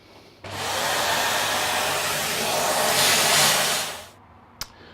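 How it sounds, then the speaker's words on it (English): A Hoover vacuum cleaner with a simple attachment, used to suck up filings while refurbishing a Korg T1 keyboard, roars up abruptly, holds a steady loud whoosh for about four seconds, then cuts off, followed by a single sharp click. "Very simple Hoover attachment."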